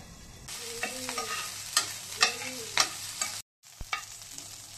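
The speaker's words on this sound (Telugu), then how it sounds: "ఇప్పుడు అదే ప్యాన్లో కొంచెం నూనె యాడ్ చేసుకొని కట్ చేసుకున్న పచ్చిమిర్చి ముక్కలు యాడ్ చేసుకొని వాటిని బాగా వేయించుకోవాలి." Chopped green chillies fry in oil in a pan, a steady close sizzle broken by scraping stirs and utensil knocks, with a brief dropout near the end.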